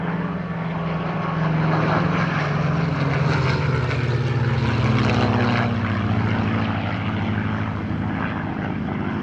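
A CA-18 Mustang powered by a Rolls-Royce Merlin engine flies past at an airshow, its loud propeller-engine drone rising and sweeping with a shifting pitch, steady and unbroken with no voices.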